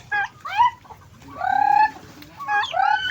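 Farm chickens cluck close by in a few quick, squawking bursts with a longer drawn-out call in the middle, loud and clear over a faint background hum.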